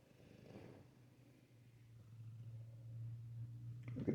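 A cat purrs close by in a low, steady rumble that starts softly and grows a little louder and fuller, with no talking.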